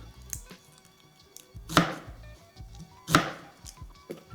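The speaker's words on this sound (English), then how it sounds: "it's basically just giving it a rough chop" A knife roughly chops garlic, ginger, pimento and onion on a board, giving a few sharp, separated chops a second or more apart, close and fairly loud against a quiet kitchen background.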